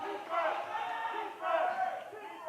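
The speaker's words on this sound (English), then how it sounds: "this very large and loud crowd here at Trinity Gymnasium" A large, loud crowd at a men's college basketball game in Trinity Gymnasium, roaring and cheering in sustained swells that fill the hall, no clear single voice above it.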